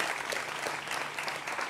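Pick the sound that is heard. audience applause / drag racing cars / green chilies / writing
audience applause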